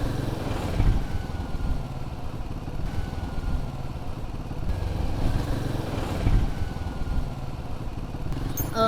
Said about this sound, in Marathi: इंजिन जे आहे ते एकदम असं रिफाईन वाटतं आहे मला